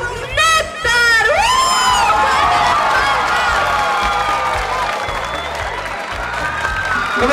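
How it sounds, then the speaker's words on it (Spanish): A concert crowd cheers and shouts loudly with applause at a cumbia show, high excited whoops and screams rising over continuous dense roaring noise. "Gracias por los aplausos, gente."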